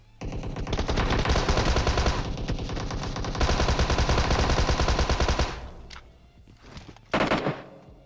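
Automatic gunfire in the mobile game PUBG Mobile sprays a house, loud and close, a dense rapid rattle running for several seconds before breaking off and returning in a short final burst.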